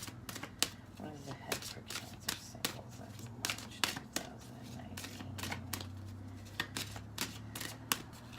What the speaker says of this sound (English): we're going to pull 2 cards from the Doreen Virtue deck